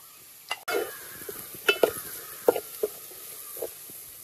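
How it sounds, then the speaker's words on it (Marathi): Onion and green chili frying in a pan with salt, a soft steady sizzle with occasional pops and a few stirring clinks of a spoon against the pan, close and fairly quiet. "तो कांदो आणि मिरची बरी आता भाजली।"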